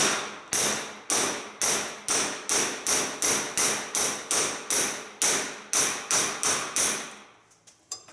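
Steady run of about fifteen loud, close metal hammer blows knocking a pinion bearing off a shaft clamped in a vise, strikes evenly spaced roughly half a second apart, then a brief quiet clatter at the end.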